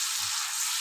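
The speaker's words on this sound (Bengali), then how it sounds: "মশলাটা দিয়ে বেশ ভালো করে কষিয়ে নেব" Ground spice paste sautéing with prawns in a pan makes a continuous, close hiss of sizzling oil, steady and without talk.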